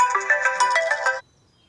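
A phone rings with a bright electronic ringtone in a tight repeating melody, loud and close for just over a second before cutting off into silence.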